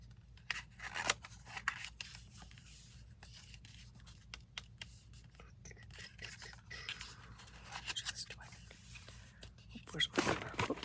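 Scissors snip repeatedly through paper while a folio is being made, giving short crisp cutting and rustling sounds throughout, louder bursts near the start and end, against a steady low hum with occasional handling noises.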